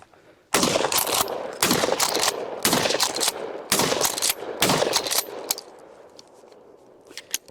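A pump-action shotgun, Remington 870 or Mossberg 590, fires a series of about six loud, booming shots roughly a second apart outdoors, each with a sharp blast and rolling echo, followed by a quieter tail of reverberation.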